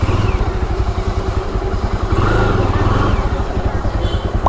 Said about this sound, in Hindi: ये है फर्स्ट गियर नीचे